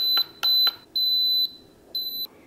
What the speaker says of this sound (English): The timer again went off